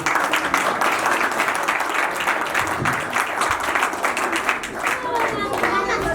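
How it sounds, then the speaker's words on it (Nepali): An audience at a Nepali Christian song launch ceremony claps together to welcome a speaker, a dense, steady patter of many hands filling the room for several seconds. "उहाँलाई ताली बजाएर हामी फेरि स्वागत गर्छौँ"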